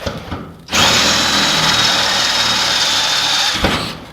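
A power drill whirs loudly at a steady high pitch for about three seconds, starting and stopping abruptly.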